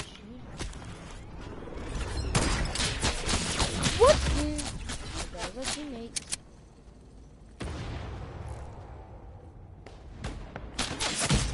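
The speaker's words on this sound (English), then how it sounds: "Oh, they're shooting me." Gunfire in the Fortnite video game rattles in loud, dense bursts, broken by brief lulls and smaller pops, while a player talks over much of the action.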